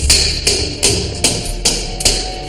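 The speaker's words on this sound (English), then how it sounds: "I'm going to try and knock the lock back a bit more" Sharp metallic taps knocking back the metal mechanism of a lock, six evenly spaced hits in close succession, fairly loud and near, with no talking.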